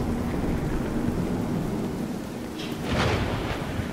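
Steady rain hisses in a video game while a rumble of thunder swells near the end, with no voices.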